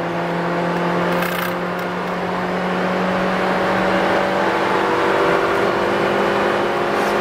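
Honda Freed GB3 with a remapped ECU accelerating hard on kick-down, a steady engine drone and rising road noise filling the cabin throughout, no talk over it.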